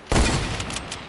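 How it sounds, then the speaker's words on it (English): Gunfire in a video game: a single loud, close warning shot bursts out, then a booming tail and crackling echo trail off over about a second. "That's a warning shot."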